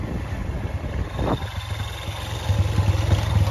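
A motorcycle engine idles steadily up close, a low, even rumble that holds throughout and swells slightly toward the end, with no talking.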